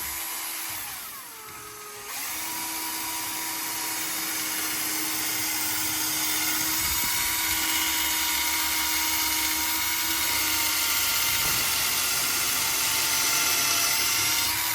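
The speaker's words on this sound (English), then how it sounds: "we're going to take our 1/8 inch drill bit, and we're going to drill a hole approximately a 1/2 inch back" An electric drill with a 1/8 inch bit bores a pilot hole in a wooden stained glass frame, a steady high whine that starts after a brief spin-up and holds continuously at close range.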